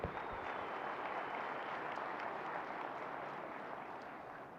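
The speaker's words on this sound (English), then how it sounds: "Let's give them a round of applause" Audience applause after a sponsor thank-you at a live agricultural podcast event, a steady dense wash of many hands clapping at moderate volume and fading slightly toward the end, with no talking.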